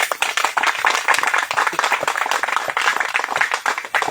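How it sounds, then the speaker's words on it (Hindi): Congregation clapping for God at a church service, dense and continuous with sharp hand claps filling the room, loud and steady throughout with no voices. "आइए ताली बजाते हैं परमेश्वर के लिए।"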